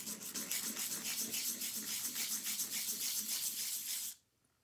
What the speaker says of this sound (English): First thing I do on the nuts is they have wear marks sometimes, so I just take a piece of sandpaper